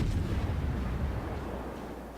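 Heavy ship guns fire armor-piercing shells in the World of Warships naval game, a deep booming blast that rumbles and slowly decays.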